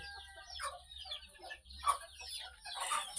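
Chickens and young chicks clucking and peeping on a small poultry farm, a soft scatter of short calls at moderate distance with no talking.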